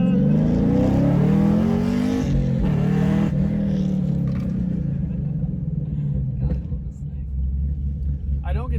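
A manual Camaro accelerates hard, its engine note sweeping upward through the revs and then easing into a steady low rumble. Brief speech is heard toward the end.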